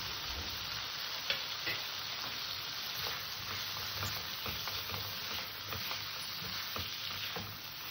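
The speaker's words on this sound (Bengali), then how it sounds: "আলুটা দিয়ে একটু হালকা নাড়াচাড়া দিয়ে নেব।" Fried potatoes being stirred into a thick, oil-released curry in a pan, giving a steady sizzle with soft scraping strokes throughout, fairly close and without any talk.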